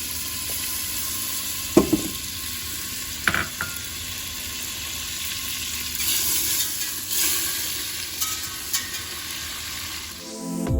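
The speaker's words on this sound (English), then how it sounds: "we're gonna take 3/4 of butter, melt that" Butter melts in a pan for a mac and cheese sauce with a soft, steady sizzle, joined by a few sharp clanks and scrapes of utensils against the metal.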